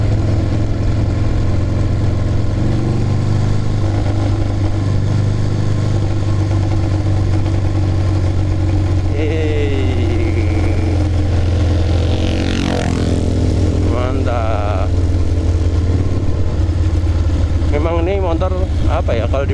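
A 1200cc motorcycle engine drones continuously while riding, loud and close with wind noise, as people talk over it at times.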